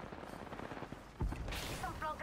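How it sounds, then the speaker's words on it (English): Automatic gunfire from enemies in the battle royale shooter Apex Legends, a sudden loud burst followed by sustained rapid shots with a brief second volley near the end. "Some flunkers shooting at me."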